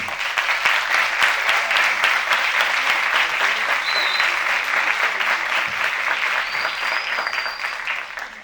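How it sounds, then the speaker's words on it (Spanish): An audience claps in sustained, even applause that fills the whole stretch and tapers slightly toward the end. "Me gustaría que le diéramos un fuerte aplauso"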